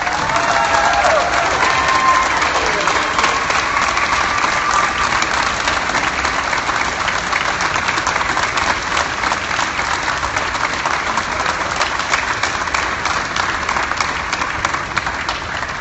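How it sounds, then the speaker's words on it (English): Sustained applause from a large crowd at a baseball stadium in Boston fills the air steadily, a dense wash of distant clapping with faint cheers mixed in, holding an even level throughout. "How about another round of applause from Mayor Walsh?"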